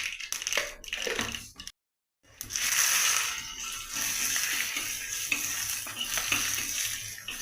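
Mustard seeds splutter and crackle in hot oil for a Kerala mango pulissery, a busy hiss of rapid pops that stops for a brief silence and then returns louder and steady.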